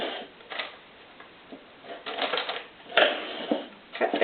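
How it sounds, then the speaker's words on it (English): Scissors snip the corners of a liner for a loaf soap mold, giving a few close, crisp cuts mixed with crinkling and rustling of the liner material, with no talk. "Then we're going to cut our corners."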